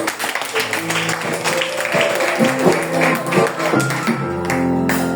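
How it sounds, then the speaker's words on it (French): A church congregation claps in praise to the Lord: steady, close rhythmic clapping blended with singing and voices, continuous and fairly loud throughout. "acclamons le Seigneur"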